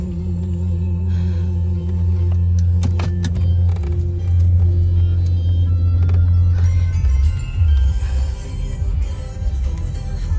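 Leaving Santa's village, someone climbs into a car and drives off: an engine hums low and steady under scattered door thunks and cabin taps, and the road noise grows rougher as the car gets moving.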